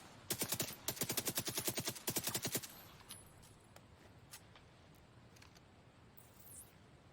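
Enemy turret in The Division 2 firing rapid automatic bursts, three tight volleys of sharp repeated shots in the first few seconds, then fading to quieter scattered game noise.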